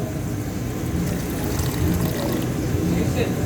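Water pours steadily into a homemade coloring mixture for decorations, a continuous close trickle lasting the full few seconds at an even level, with a faint voice murmuring underneath.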